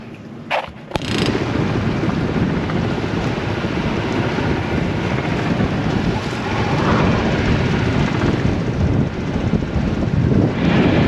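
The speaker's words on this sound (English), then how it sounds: "There's a lot of wind, it's probably blowing 25." Strong wind roars steadily at sea, buffeting the microphone with a loud, continuous broadband rush, broken by a brief gap near the start and otherwise unbroken.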